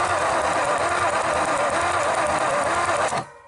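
A 1954 Ford Y-block 239 V8 fires on a 6-volt coil, running with a rapid, even mechanical chatter at close range before cutting off abruptly near the end.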